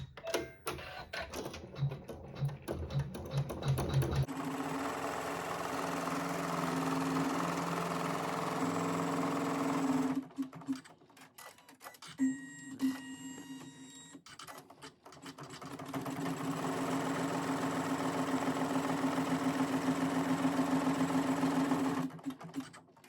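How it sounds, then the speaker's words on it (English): An embroidery sewing machine stitching a tack-down line on fabric, making a rapid, steady mechanical whir and needle clatter that runs in long close bursts, broken by brief pauses and thread-trimming clicks. "now we can sew our tack down"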